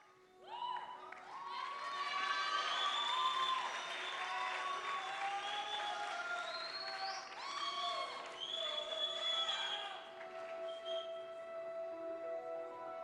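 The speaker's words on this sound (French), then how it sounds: "Applaudissez fort pour le Walid" A crowd at a school talent show applauds and cheers for a performer after a monologue, with loud clapping and bright shouts running for about ten seconds before easing off.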